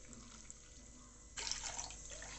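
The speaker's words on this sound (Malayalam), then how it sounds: "കുറച്ചുകൂടെ വെള്ളം ഞാൻ ചേർത്ത് കൊടുക്കുന്നുണ്ട് കേട്ടോ" Water is poured into a pot of Kerala drumstick leaves curry: a quiet room gives way to a short, soft splashing pour in the second half.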